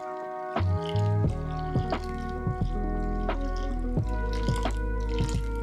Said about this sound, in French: Ensuite, on va ajouter l'eau tiède.